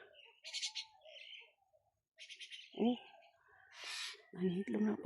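Bright chirps and short whistled calls come in bursts, with people talking intermittently between them, at the foot of the former Baguio dumpsite.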